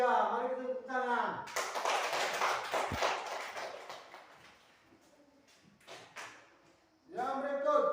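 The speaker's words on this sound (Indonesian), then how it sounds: "mari kita tepuk tangan." A small group applauding in a classroom, a brisk burst of hand claps that gradually thins into a few scattered claps, with a voice talking before and after.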